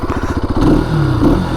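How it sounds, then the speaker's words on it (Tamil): Single-cylinder growl of a 2025 Bajaj Pulsar RS 200 motorcycle, close by and loud: a quick pulsing idle gives way to a strong throttle blip that swells, dips briefly and rises again. "இதோட பியூட்டிஃபுல்லான த்ராட்டில் சவுண்ட் நான் இப்போ வந்து உங்களுக்கு காமிக்கிறேன்."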